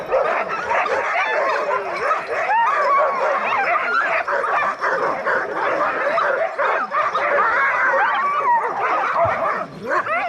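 Sled dogs bark and yip continuously at a summer dog-sledding yard, a dense excited chorus of many overlapping voices with whimpers mixed in, loud and close throughout.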